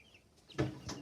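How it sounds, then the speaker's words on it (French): Young chicks being lifted two at a time from a crate into a coop, giving a couple of short close clucks and peeps over low background rustle. "Maintenant, je vais reprendre mes petits poussins qui étaient dans la caisse puis je vais les mettre dans le condo"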